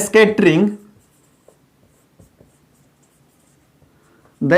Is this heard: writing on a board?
yes